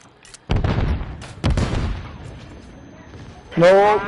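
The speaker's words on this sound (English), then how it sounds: "Enemy precision airstrike." Explosions from an enemy precision airstrike in the Call of Duty video game: loud bursts with booming rumble, spaced apart, followed by a sharper crackling blast near the end, with no one speaking.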